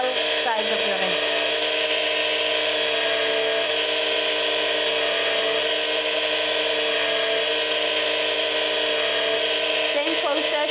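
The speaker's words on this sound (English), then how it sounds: "When taking out polish, make sure that you rotate your ring from one angle and then turn it around so that you are able to polish on all sides of your ring." A jewellery ring is pressed against a spinning polishing mop, a continuous steady motor whine and hum running for the whole stretch, with a person talking over it.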